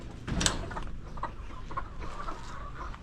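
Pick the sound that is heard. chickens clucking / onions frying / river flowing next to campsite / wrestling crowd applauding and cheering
chickens clucking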